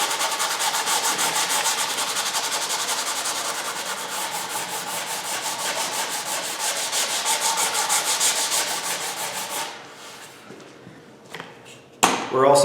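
Coarse 60 grit sandpaper rubs hard against the wooden neck of a 335-style guitar kit, a steady, loud scratchy back-and-forth lasting most of the clip before it stops and a few brief knocks follow.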